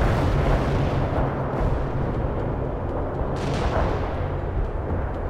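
Heavy artillery fire in the video game World in Conflict rolls on as a dense, continuous low rumble of blasts and booms, loud and close, with no speech over it.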